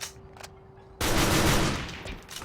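Rapid burst of T91 assault rifle fire in the online shooter TAVA, a loud continuous rattle of shots lasting about a second and a half before tapering off, with no voices.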